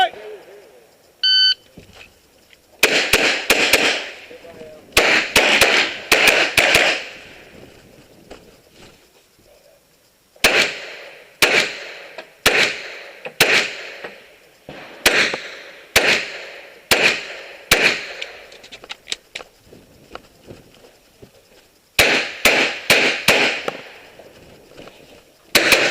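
Competition shooter firing through a match stage after a start beep: loud sharp gunshots in rapid strings and pairs, separated by brief pauses for movement, with voices heard in between.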